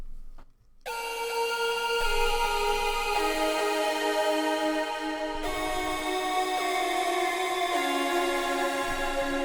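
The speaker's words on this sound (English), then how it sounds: "So it's the main melody synth" A bright, buzzy synth lead run through a bit crusher plays a slow melody of long sustained notes, its tone gritty and harmonically rich, alone and fairly close.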